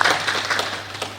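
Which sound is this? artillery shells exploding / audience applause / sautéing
audience applause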